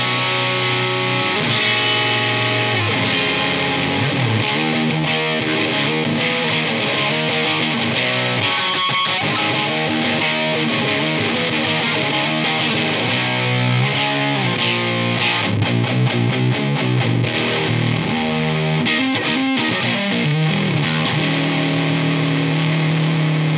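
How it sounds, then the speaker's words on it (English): An electric guitar played through a Pro Co Lil' Rat mini distortion pedal gives thick, saturated chords and riffs with notes still distinct, loud and continuous with no talking. "It's one of the most amp-like sounding overdrives out there, but it's still very stereotypically a Rat pedal."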